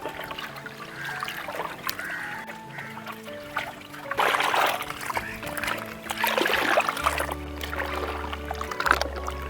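Halwa flour stirred by hand in water, with wet sloshing and splashing that swells in bursts over a low hum, while a voice speaks briefly.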